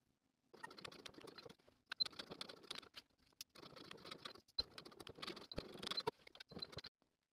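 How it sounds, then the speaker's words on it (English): A sewing machine edge stitching around the rectangular sleeve opening of a lined bomber jacket, fitted with a zipper foot, running in quick rattling bursts with short pauses between them, close and fairly quiet. "I'm going to take it to my machine and I'm going to edge stitch all around the sleeve's rectangular opening"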